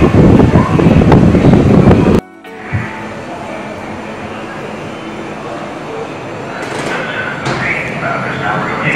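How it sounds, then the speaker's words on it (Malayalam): A space museum exhibit blows a simulated strong wind, a loud broadband roar that cuts off abruptly, followed by a quieter steady airy hum with faint knocks. "നല്ല കാറ്റാകുന്ന ആ ഒരു എഫക്റ്റ് ഇട്ടാണ് നല്ല കാറ്റ് അവിടെ നിന്ന് കൊടുക്കുന്നത്"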